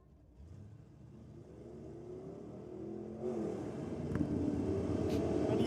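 A 1954 Chevrolet Bel Air drag car revs at a drag race, its engine note climbing and thickening steadily into a loud, broadband roar over about six seconds, heard from a moderate distance amid crowd and track noise.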